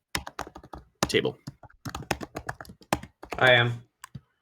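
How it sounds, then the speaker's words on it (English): Loud, rapid clatter of typing on a computer keyboard during a tabletop game session, with people talking over the keystrokes and a burst of laughter near the end. "typing very loud, by the way"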